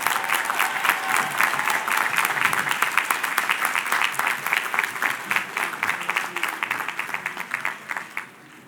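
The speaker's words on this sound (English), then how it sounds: "let's give this fine concert choir one more round of applause" An audience applauds a college concert choir at a livestreamed performance, a dense, sustained round of clapping that gradually thins toward the end.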